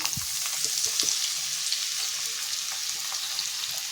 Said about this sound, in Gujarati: તો બધું જ આપણે અહીંયા હલકું સાતડી લઈશું